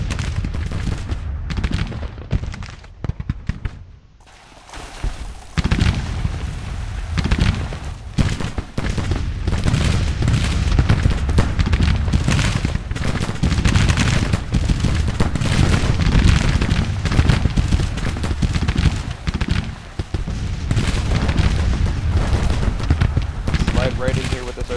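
Civil War artillery pieces and musketry rumble through a battle in Grand Tactician: The Civil War, with continuous dense booms and crackling volleys layered thickly throughout and someone talking over the din.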